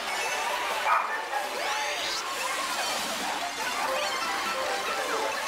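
A dog barks and yips in a few short bursts amid busy Mario Kart 8 racing game sounds on Wii U, with engines whining and effects sweeping throughout, moderately loud.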